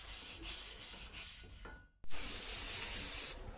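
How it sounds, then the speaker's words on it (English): Rhythmic sanding strokes rub back and forth across a chromoly steel bike frame, followed by a brief pause and then a louder, steady hissing scrub. "so sanding this should be easy."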